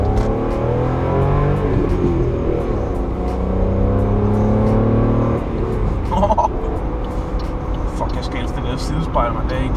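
A car engine revs and hums steadily while driving on a road toward a motorway, holding a loud continuous drone with shifting pitch, briefly easing off partway through as people talk over it.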